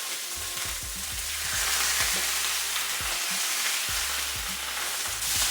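Beef flank steak sears in a hot pan with butter while being basted, a loud continuous sizzle and spatter with a soft rhythmic clink of a spoon against the pan, no voices.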